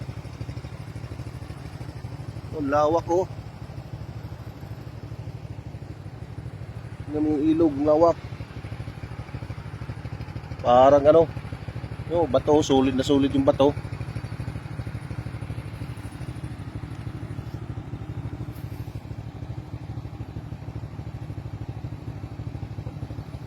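A motorcycle ridden along a river route in Quirino, Ilocos Sur hums steadily as a constant low engine drone beneath the whole stretch, while a rider talks in short bursts over it.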